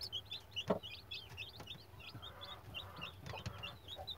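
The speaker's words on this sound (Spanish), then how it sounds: "Ahí está la Roberta enseñándole a comer a sus pollos más avanzados." Roberta, a hen, clucks softly among her newly hatched chicks as she teaches them to eat, while the chicks keep up a steady run of high, thin peeps close by and fairly faint.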